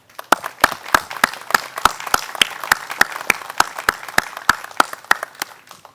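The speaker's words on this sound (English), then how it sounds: "So a round of applause for all of you." A small ceremony audience applauds veterans and serving members at a Memorial Day tribute wall event, with sharp, distinct claps in a fairly steady rhythm, close and moderately loud, with no talking.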